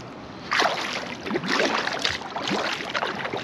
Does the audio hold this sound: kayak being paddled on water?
yes